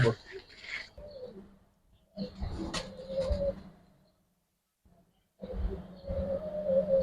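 Racing pigeons coo in a loft, low soft calls repeating in bursts with short quiet gaps, close by and fairly faint, with a voice talking over parts of them.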